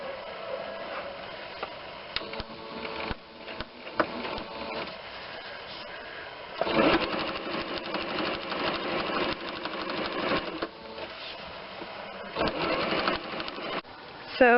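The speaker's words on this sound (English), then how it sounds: "So I've finished quilting the front." Sewing machine quilting fabric for a Jyn Erso costume, running in steady mechanical bursts with brief pauses, moderately close, with faint background talk at times.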